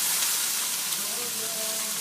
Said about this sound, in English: I'm going to saute some onions